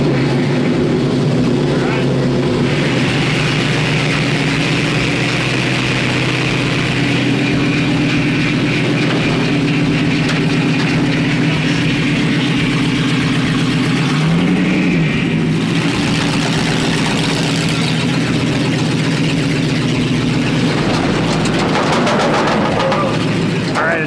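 A project car's engine fires up and runs loud and close, holding a steady rough idle with a brief rise in revs partway through.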